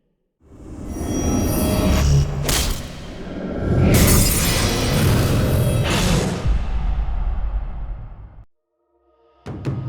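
A big shattering crash with booming debris as the enemy Nexus is destroyed in League of Legends after Lee Sin kicks a champion into it; two long loud bursts of breaking and rumble, then a brief silence and a short new sound.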